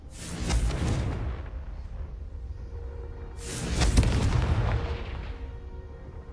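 Two heavy booming blasts from the Confringo spell hit candelabras in the wizarding game Hogwarts Legacy, each a loud burst with a rumbling, crackling tail, about three seconds apart.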